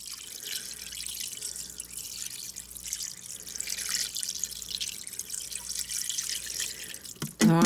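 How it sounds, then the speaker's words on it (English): Water pours over dry spaghetti in a Ninja Foodi pot, a soft, continuous trickling and splashing that rises slightly in level, ending with a brief louder clunk. "I'm going to pour this water or whatever over this spaghetti."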